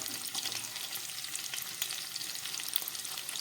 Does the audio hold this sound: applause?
no